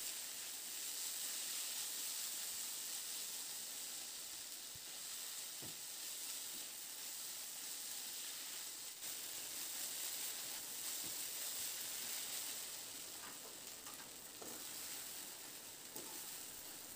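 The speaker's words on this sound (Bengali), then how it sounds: "এবার ওই গরম ঘিয়ের মধ্যে আমি যে সাবুটাকে ধুয়ে জলটা শোক করে রেখেছিলাম সেই সাবুটা দিয়ে হালকা করে মিনিট 3-4 মতো একটু নাড়াচাড়া করে ভেজে নেব।" Sago pearls, soaked and drained, frying gently in hot ghee for a festive sago payesh give a steady, soft sizzle and hiss throughout, with a few faint stirring scrapes and occasional light crackles, close and continuous.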